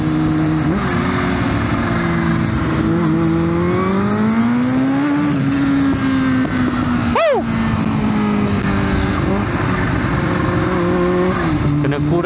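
A Kawasaki ZX25R four-cylinder motorcycle engine revs loudly and continuously after a downshift, with rising and falling pitch and a sharp blip around the middle, close to the microphone with wind rush and no talk.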